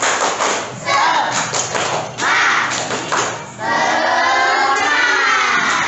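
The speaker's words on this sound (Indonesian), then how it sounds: "coba Bapak tes kubu sebelah kanan dulu. Tepuk semangat." A group of participants on the right-hand side of a teacher-training class performs a rhythmic spirit clap, loud patterned claps and thumps in bursts with shouting voices, ending in a sustained cheer.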